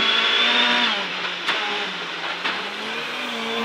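A rally car engine on a gravel stage whines at high pitch, then drops and revs as gears shift, with sharp bursts and gravel crunch beneath, loud and close.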